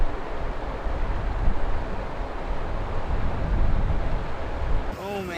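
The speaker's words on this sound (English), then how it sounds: "it's getting windy again" Steady wind roars and buffets the microphone outdoors at a Colorado fly fishing spot, with rough low rumble throughout and a brief quieter moment near the end.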